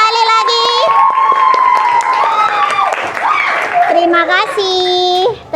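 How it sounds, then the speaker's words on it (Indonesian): A class of children claps their hands at the close of a lesson, mixed with kids' excited voices and a high chattering hubbub throughout, loud and close. "Tepuk tangan sekali lagi"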